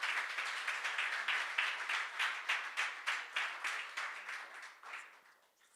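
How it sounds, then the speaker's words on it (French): Audience clapping, a warm steady patter of many hands that gradually thins and fades out near the end; no clear cheering voices stand out. "Est-ce que vous pouvez l'encourager par vos acclamations?"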